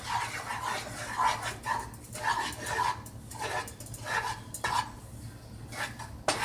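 Butter and flour roux stirred in a pan for black beans and rice, with repeated scraping and clinking strokes in a steady rhythm over a low hum, while a dog barks intermittently nearby.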